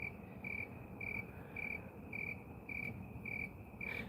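Crickets chirping in short regular pulses about twice a second, a thin high trill repeating steadily against faint background noise, moderately close with no voices.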